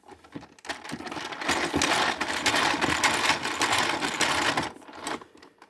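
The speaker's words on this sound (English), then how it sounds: "it makes the 2 lower cogs and this gigantic wheel rotate, giving off really heavy machine sounds" A Kamen Rider Build DX Build Driver toy crank is turned, giving a rapid mechanical clatter of whirring gears as two lower cogs and a large wheel rotate, running steadily for several seconds before stopping.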